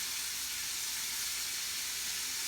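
About a dozen shrimp sizzle in a hot pan, a steady bright frying hiss that stays close and even throughout, with no voices.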